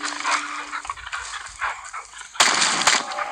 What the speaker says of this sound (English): let's start running